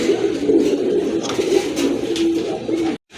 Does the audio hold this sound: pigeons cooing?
yes